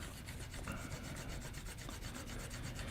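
A knife being drawn across a fine Lansky sharpener stone, quiet and close, making a steady rasping rub in repeated quick strokes with no talk.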